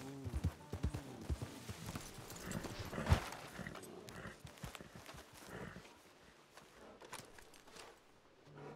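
Horse hooves clip-clop at a steady walking pace in Red Dead Redemption 2 Online, fairly faint, with a snort or whinny near the start and soft ambient noise throughout.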